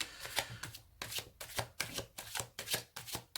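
Tarot cards are shuffled close up in quick rhythmic bursts of riffling and slapping, repeated about a dozen times with short gaps.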